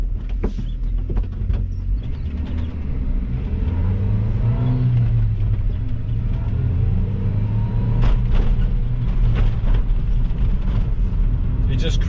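A 4WD mini truck driving through snow produces a low, steady engine rumble with rising and falling revs, heard from inside, with scattered clunks and rattles over the drone.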